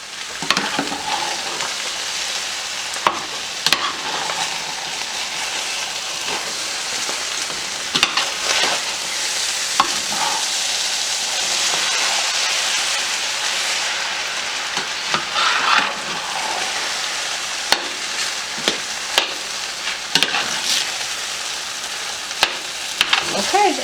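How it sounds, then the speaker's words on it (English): Fried rice and egg are stirred together in a single pan, giving a steady sizzle broken by frequent scraping and clattering strokes of the spatula, close and continuous with no talking. "I'm just going to mix this all together."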